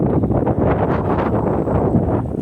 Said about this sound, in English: it is kind of windy out here